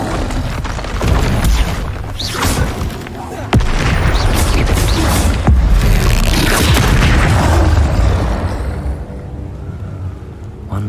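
Confringo fire spells burst in a Hogwarts Legacy battle, loud booming blasts with rumbling crackle layered over dense combat noise, while a shield spell is cast and voices shout spell names among the explosions.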